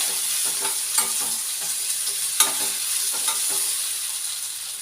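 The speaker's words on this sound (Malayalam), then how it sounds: "ഇനി നമുക്ക് ഇളക്കി കൊടുക്കാം കേട്ടോ" Masala chapati mixture stirred in a pan, giving a steady soft frying hiss with a few scraping clicks from the spoon, close and moderate, no voices.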